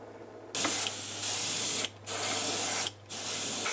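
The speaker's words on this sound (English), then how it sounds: "let me try turning the pressure up on the airbrush" An airbrush sprays Createx paint onto a fishing jig in steady, loud hissing bursts, three long sprays broken by brief pauses, over a low electrical hum.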